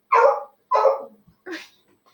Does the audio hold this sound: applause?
no